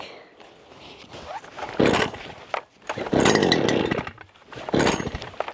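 A petrol strimmer on full choke is pull-started on a farm, with repeated rasping recoil-cord pulls in short bursts and the engine sputtering without catching, close up.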